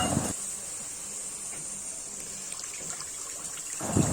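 Water poured into a cooking pot in a home kitchen, a quiet steady trickle that runs for a few seconds before tapering off.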